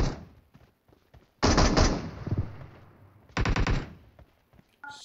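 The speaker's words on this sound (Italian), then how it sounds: "gli spari vengono da dietro" Gunfire in the mobile battle royale game PUBG Mobile: two loud bursts of automatic rifle fire, each about a second long, separated by a quieter stretch of faint ambient game sound.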